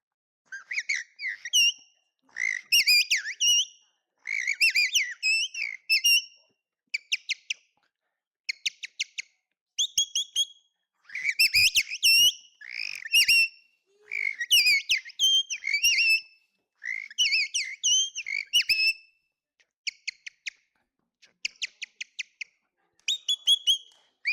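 A man whistles an imitation of a blackbird's dawn song, with bursts of warbling, fluting phrases separated by short pauses. The whistling is close and clear over a quiet room.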